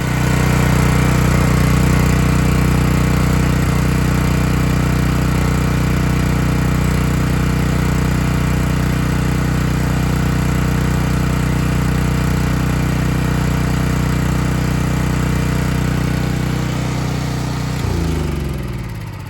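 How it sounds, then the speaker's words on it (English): Gas engine on a Dewalt pressure washer running loud and steady with a constant droning hum, close by, winding down at the very end as it shuts off. "we'll start up the motor"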